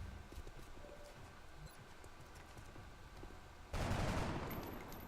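A burst of gunfire cracks out late in XCOM Long War, a sudden loud broadband blast after several seconds of low ambient hum and faint clicks, with the noise trailing off slowly afterward.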